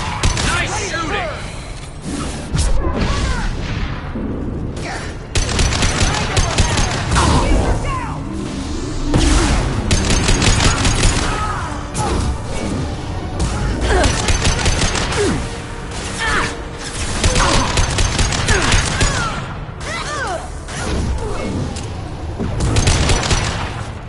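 Gunfire in the video game Mass Effect 2, with loud sustained bursts of automatic shooting and impacts over about twenty seconds, broken by brief pauses, along with in-game voices talking.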